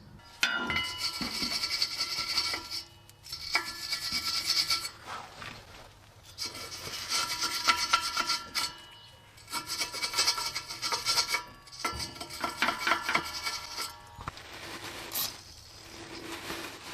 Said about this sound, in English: use a wire brush and get that off